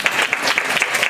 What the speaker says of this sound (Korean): 선 치우면 박수 한번 주세요.